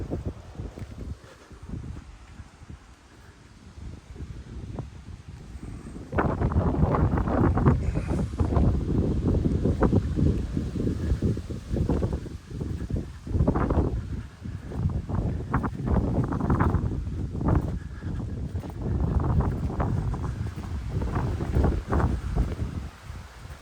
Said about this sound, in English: Even though it's windy